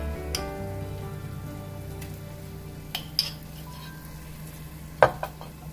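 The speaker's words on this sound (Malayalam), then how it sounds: "എന്നിട്ട് നന്നായി മിക്സ് ചെയ്യാം." Onions stirred with ginger garlic chili paste in a pan for Arabic chicken maqlooba: a steady low sizzle with a few sharp scraping clinks of the spoon against the pan, clearest near the end.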